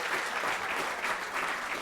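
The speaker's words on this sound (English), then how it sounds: "Please, everybody, give a round of applause for this important conversation." Audience applause at a panel discussion in a townhall event, steady dense clapping from a full room lasting the whole moment, fairly loud and even with no talk over it.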